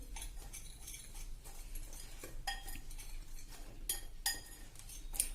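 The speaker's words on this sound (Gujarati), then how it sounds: "હવે આ બધું આપણે સરખું મિક્સ કરી લેશું" Khaman batter with turmeric being stirred in a bowl, a spoon clinking and scraping against the sides in quiet irregular taps with brief louder knocks.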